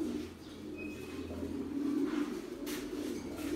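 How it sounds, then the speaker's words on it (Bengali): Pigeons, including a foster bird of a military breed, coo in low continuous rumbling murmurs close by in a breeding room, with faint chirps and a brief flutter-like rustle near the end. "এই যে আমাদের মিলিটারি কবুতর"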